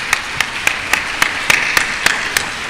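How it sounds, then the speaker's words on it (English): Conference audience applause for panelists, dense and fairly close, with regular sharp peaks standing out above the steady clapping wash. "Please give them a big round of applause."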